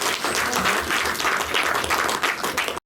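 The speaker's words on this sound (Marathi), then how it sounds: "बघा यांच्याकडे टाळ्या वाजवा" Applause from an audience at a Marathi community talk event, a dense wash of many hands clapping steadily and loudly for nearly three seconds before cutting off abruptly.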